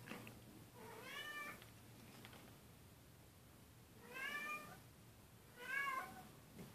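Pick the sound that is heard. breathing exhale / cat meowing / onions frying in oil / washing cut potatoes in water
cat meowing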